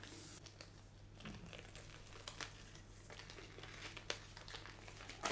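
Glassine paper crinkles and rustles faintly in handling during gel printing, with soft scattered crackles and a few sharper ticks over a low hum.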